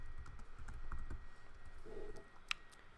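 Light typing on a computer keyboard during a digital painting session, a few scattered key clicks with gaps between them and a sharper click near the end, fairly quiet.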